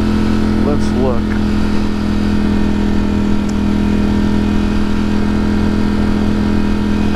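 A Ducati Monster 1200 S or Streetfighter V4 motorcycle engine drones steadily while riding down a center lane, a loud, constant hum with wind noise throughout, and a person talks over it.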